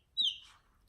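A very small chicken gives one short, high, falling chirp, quiet and close, with near silence before and after.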